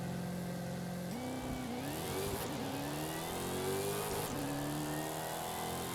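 A car engine in Forza Horizon 5 revs hard during a launch, holding a steady drone before climbing through several rising gear pulls with brief dips between shifts, loud and close with no voices.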